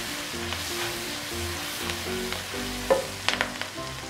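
Onion sautés in margarine in a heated wok, giving a steady low sizzle with soft stirring scrapes and a few sharper clicks of a utensil toward the end.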